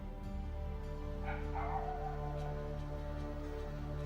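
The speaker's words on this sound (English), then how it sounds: "Now the dog is barking." A dog barks a few times indoors, a short burst of yips partly buried under a steady low background hum, with no talking.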